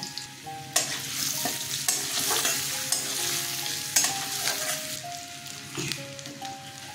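Food fries in a pan with salt and turmeric, giving a continuous close sizzle broken by regular scraping stirs and sharp spatula knocks.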